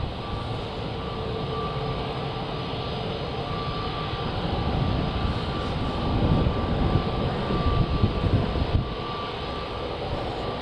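EasyJet Airbus A321neo at Manchester Airport, its engines a steady broad roar that swells slightly partway through, heard without talk.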